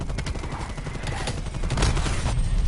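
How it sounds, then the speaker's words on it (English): Dense gunfire and explosive booms from an incoming artillery strike in Call of Duty Cold War roll on continuously for a few seconds, loud and close, building slightly toward the end. "Incoming artillery."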